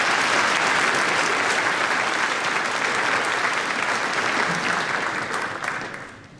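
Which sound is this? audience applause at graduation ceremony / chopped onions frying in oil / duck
audience applause at graduation ceremony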